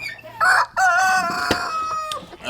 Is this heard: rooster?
yes